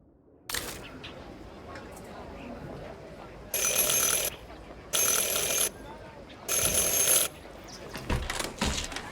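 A doorbell in the video game Syberia: The World Before rings three times, three bright, evenly spaced electric rings of under a second each over a quiet background, followed by faint footsteps and movement.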